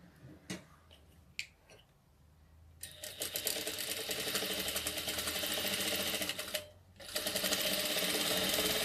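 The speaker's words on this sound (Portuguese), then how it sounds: "Vou passar uma outra costura. Bem rente a primeira costura que eu passei." A sewing machine stitches a second seam close beside the first on a doll's dress. A few light clicks come first, then a loud, steady, close run that pauses once and resumes.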